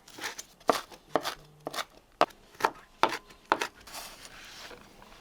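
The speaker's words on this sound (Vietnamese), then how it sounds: "Nấm mèo thì cắt nhỏ và băm nhuyễn ra." Sharp knife mincing wood ear mushrooms on a cutting board, about a dozen irregular strikes in quick bursts, close and crisp with no talking.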